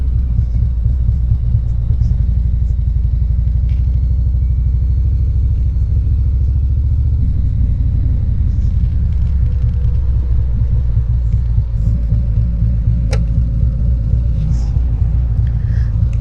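Steady low engine rumble from a motorcycle rolling through traffic, constant throaty drone with wind noise and a brief clatter, no clear talk.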